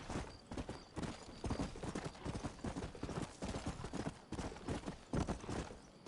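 Horse hooves gallop in rapid, even clip-clop beats in Red Dead Redemption, loud and steady over a dense wash of outdoor game sound.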